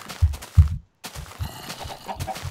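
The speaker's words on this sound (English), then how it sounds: "Hey, look, a chicken." Chicken clucks in the video game Minecraft, a few short close bursts separated by a brief silence, with a quieter game soundscape continuing after.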